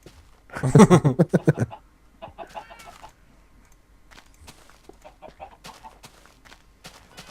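In Minecraft, a loud burst of rapid chicken clucking opens, followed by softer scattered clucks and small chirpy sounds continuing in the background.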